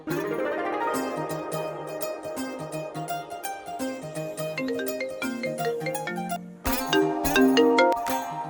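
A phone ringtone plays as a call is placed, a bright repeating electronic melody with a steady rhythm, continuous and fairly loud, with no voices over it.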